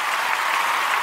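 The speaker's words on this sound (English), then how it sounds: "I got to give you some clapping. Because you just give me a round of applause." A round of applause, with dense, steady clapping from a crowd filling the brief moment at an even level.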